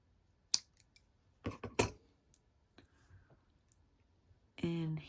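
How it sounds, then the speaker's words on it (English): A few sharp snipping clicks of sticky scissors cutting tiny bits of material, close and quiet, spaced over a few seconds, ending in a brief buzzy burst. "Use these sticky scissors."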